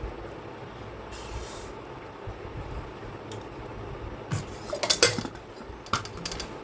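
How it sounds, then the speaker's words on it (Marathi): A spoon scrapes and clinks against a bowl while stirring oil into homemade bhel mix with sev, with a few sharp close metallic taps near the end over low steady background noise. "आता याला फिरवून घेणं येईल."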